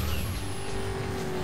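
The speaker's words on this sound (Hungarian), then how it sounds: "Itt egy busz." Engine roar of vehicle traffic in the racing video game Burnout Paradise, with a bus nearby, a continuous loud motor drone with a steady whine and low rumble and no talk over it.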